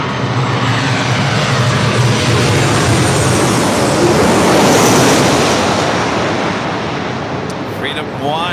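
A fixed-wing airplane passes overhead at night near LAX, a loud, continuous broadband roar that swells and then slowly fades, with no voices over it.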